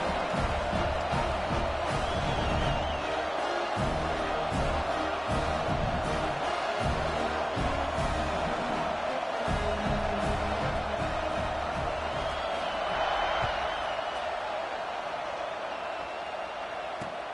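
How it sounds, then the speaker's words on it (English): A football stadium crowd at a Michigan–UCLA game cheers and roars steadily, a dense sustained wash of voices with occasional whoops and swells, loud throughout as a kickoff unit takes the field. "this crowd is feeling themselves after that last drive"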